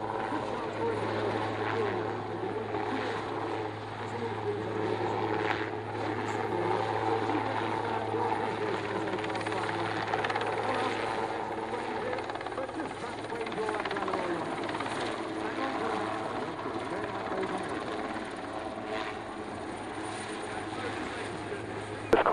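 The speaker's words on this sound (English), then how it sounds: "More demanding work on the helicopter." Helicopter hovering low at an air display, a steady close rotor and engine drone running unbroken throughout with a constant low hum, while commentary talk is heard over it.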